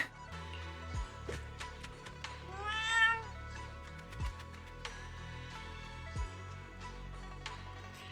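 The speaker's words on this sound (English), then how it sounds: "Is it the same fat cat that fell from the roof?" A cat meows in the video game Zenless Zone Zero, a few short, clear calls heard alone over a soft musical backdrop with scattered chimes.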